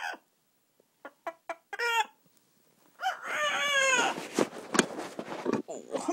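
A pet bird chirps and calls in short bursts, then gives longer warbling, harmonic vocalizations close to the microphone, with a person talking to it in between.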